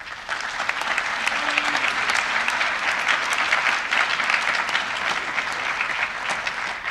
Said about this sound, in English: Let's give all these people a round of applause.